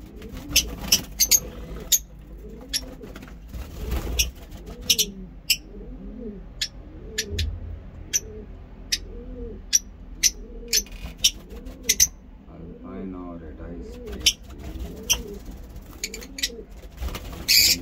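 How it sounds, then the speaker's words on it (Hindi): Pigeons coo in repeated low, throaty phrases, steady and fairly close, with scattered sharp clicks and taps around them. "ये कबूतरों के भी आवाज आप सुन सकते हैं।"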